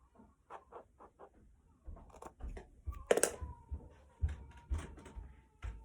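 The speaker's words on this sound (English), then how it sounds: "I'm going to use my fabric scissors just to get this" Fabric scissors snipping through quilting fabric while squares are cut for a simple baby blanket, a run of short crisp cuts and clicks, close and fairly quiet, with a louder rustle of handled fabric midway.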